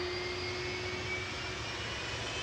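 Aircraft for flight 863 to Mahon at Manchester Airport, a steady jet engine roar with a thin whine, constant and moderately loud across a brief stretch.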